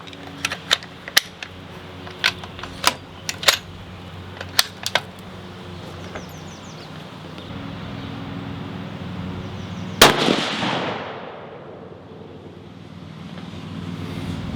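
A Horizon Vandal X rifle in 22 Creedmoor fires outdoors. A string of sharp, fainter cracks comes first, then one loud, close report that rolls away in a long, fading echo against wind noise.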